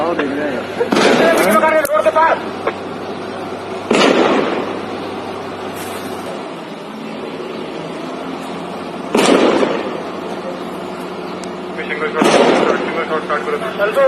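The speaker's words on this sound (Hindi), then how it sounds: "ये वो फुटेज है जिसमें कि आर्मी ने उस घर को ही उड़ा दिया है" Blasts and bursts of gunfire ring out during an army encounter in Handwara, Kashmir, as a house is blown up, heard as several loud separate booms spaced seconds apart with an echoing rumble in between.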